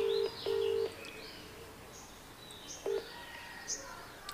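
Phone keypad tones sound while a call is being placed: two short beeps at the start and a third a couple of seconds later, fairly quiet, with faint chirps between them.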